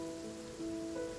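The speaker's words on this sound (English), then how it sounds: "It's raining again?" Rain falls steadily in the video game Genshin Impact, a continuous soft patter under a sustained tonal music drone, with no talking.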